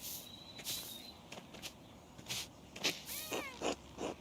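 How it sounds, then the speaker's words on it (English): A cat in the medieval video game Pentiment meows several times in short, fairly faint calls, some drawn out and rising, over quiet ambient garden sound with light footsteps. "Oh, we have a cat."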